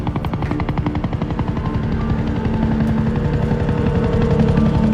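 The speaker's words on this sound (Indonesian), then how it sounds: "terlihat sebuah helikopter yang akan membawanya dan Mike telah tiba" A helicopter arrives with steady, loud rotor chop and a rising engine whine that grows slightly louder as it approaches, with no talking.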